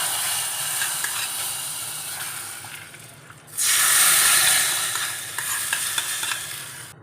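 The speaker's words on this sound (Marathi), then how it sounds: "आता आपण ही फोडणी यावर घालून घेणार आहोत" Hot tempering poured onto Maharashtrian buttermilk kadhi erupts into a loud, close sizzle and hiss midway, following quieter stirring and frying noise, then settles to a steady simmering crackle, with no talking.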